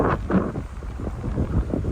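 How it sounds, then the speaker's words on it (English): Strong wind roars and buffets the microphone in continuous heavy gusts in Kinuta Park, Tokyo, loud and close, with no other sounds standing out. "It's always windy around our house, but I didn't expect it to be this windy over here."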